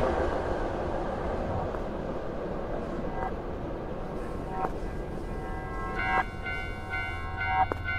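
A cursed subway train in a horror video game: a steady, loud rumble of rolling rail cars fills the whole stretch, with bell-like metallic chimes ringing near the end.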